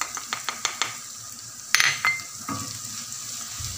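Meat with a little added sugar sizzles and is stirred in a hot pot, with a few quick scrapes early on, a sharp metallic clatter midway, then a steady frying hiss.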